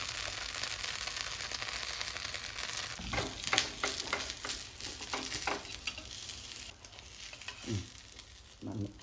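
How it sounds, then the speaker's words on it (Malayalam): Steady sizzle of food frying in hot oil in a home kitchen, with a constant crackling hiss and occasional scraping stirs on top, close and moderately loud. "എന്നിട്ട് അതിനകത്തേക്ക് എണ്ണ കോരി ഒഴിച്ച് പൊരിച്ചെടുക്കുകയാണ് ചെയ്യുക"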